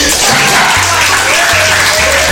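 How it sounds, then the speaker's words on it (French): Audience applause for a deputy managing director at a corporate ceremony in Africa, a loud, dense wash of clapping that runs steadily throughout, with low rhythmic thumps of music or drumming beneath. "vous demande d'applaudir notre DGA, Fanny."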